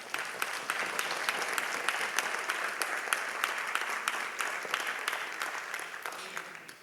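An audience at an arangetram dance recital applauds a musician being introduced, sustained clapping with crisp individual claps standing out, fairly close and even in loudness before it tapers off at the end.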